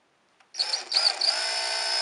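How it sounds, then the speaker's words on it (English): After a short click, a power drill with a 3mm bit whirs up and runs steadily at high speed drilling a hole in a tricopter yaw mechanism, a close, loud whine with slight pitch wavers. "you're gonna drill an extra hole in here."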